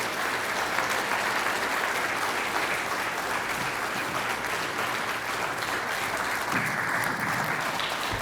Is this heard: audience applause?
yes